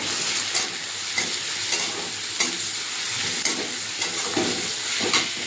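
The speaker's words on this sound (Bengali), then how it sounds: "পেঁয়াজটা একটু ভাজা হয়েছে, লাল লাল হয়েছে।" Onion frying in a pan for a Bengali stingray curry, a steady close sizzle broken by repeated scraping stirs of a spatula, with no talk.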